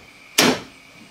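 Door of a 1987 S-10 truck swinging shut with a single short solid thud that fades quickly.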